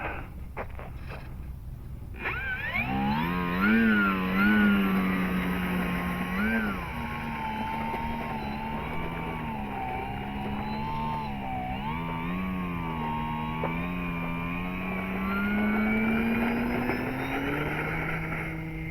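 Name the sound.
E-flite Decathlon RC model airplane propeller flying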